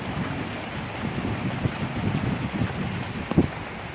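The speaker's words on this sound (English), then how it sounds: "now it just started raining" Sudden rain arriving on a windy day, with water pouring from gutters, makes a steady broadband wash with rumbling wind buffets on the microphone and a few louder gusts near the end; no voices.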